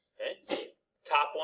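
A single sharp sneeze bursts out in a math classroom, short and fairly close, with a teacher's voice speaking just before and right after it.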